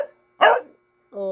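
A pet dog, begging for bread at home, gives one sharp bark and then a higher, tonal yelp, separated by a short silence.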